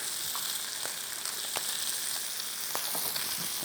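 Cumin seeds frying in a hot pan, a steady close crackling sizzle with a few sharper pops throughout the short stretch and no voice over it.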